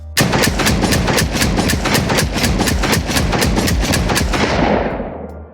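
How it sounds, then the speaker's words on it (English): Shotgun fire sound effect for a retro western game: a rapid, evenly spaced run of about sixteen loud, close blasts, ending in a reverberant tail that fades away. "In this case, we go Play Shotgun Fire."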